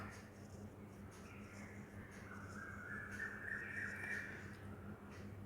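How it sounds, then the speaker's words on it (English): A red-tailed hawk gives a faint, drawn-out, hoarse scream that rises and then trails off over a few seconds, heard alone against a low background hum. "This is red-tailed hawk."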